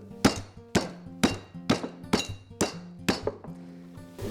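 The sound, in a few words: meat mallet pounding pork loin slices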